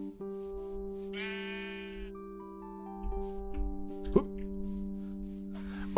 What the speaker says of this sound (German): Hallo Schaf.